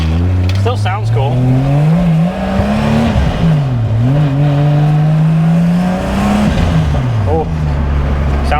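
Modified Nissan S14 fitted with a 2JZ engine driving, loud close engine drone rising and falling with revs and gear changes, steady throughout, with voices talking under it.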